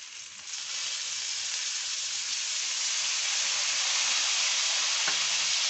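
Vinegar hits a pan of frying pork ribs with garlic, setting off a loud, steady sizzle that swells after the first second and hisses on without pause, close up and with no talking.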